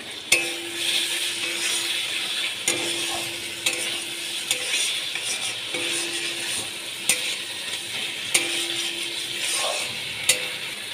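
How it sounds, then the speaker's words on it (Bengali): Fried potatoes are stirred through a sizzling spice paste in a pan, a steady fry hiss broken by sharp spatula scrapes and clicks roughly every second or two, close and continuous with no talk. "আলুগুলো দিয়ে আমি ভালো করে কষিয়ে নেব।"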